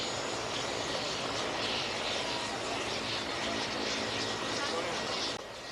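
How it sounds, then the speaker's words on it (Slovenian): Aermacchi military jet of the Italian Air Force flying at an airshow, a steady loud broadband engine roar that holds throughout and drops off sharply at the very end. "To je Air Macchi, podržako vojno letalo italijanskega vojnega letalstva."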